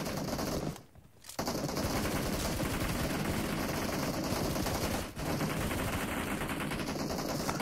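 Continuous automatic gunfire from a PUBG Mobile esports team deathmatch rattles without pause, dense and loud, with one short gap near the start and a brief dip midway.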